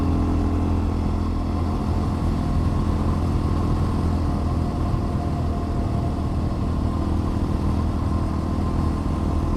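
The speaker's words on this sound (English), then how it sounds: "Yeah, the bike's running good now." A dual-sport motorcycle cruises along a rural road, its engine a steady, loud low drone with constant rumble and wind noise, no speech over it.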